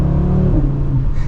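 A 2024 Audi RS3 engine pulls away, a loud, close engine note with a deep throb that shifts as the car sets off, briefly and without talk.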